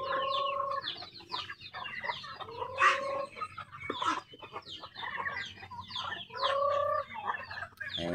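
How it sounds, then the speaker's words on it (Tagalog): Pet chickens and ducks on a farm cluck and squawk close by in a busy, overlapping chorus, with sharp calls standing out over continuous chatter. "mga alaga namin manok at saka patok."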